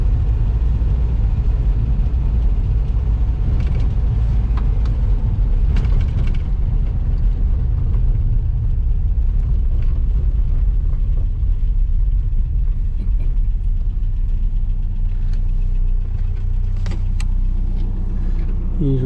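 Road traffic rumbles steadily from inside a moving Morris Oxford, a basic older car, with engine drone and passing vehicles forming a loud continuous wash, and no talk heard.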